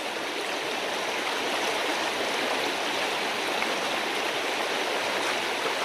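Cold creek water at a gold mining site rushing steadily, a broad continuous wash of flowing water, close and loud with no talk.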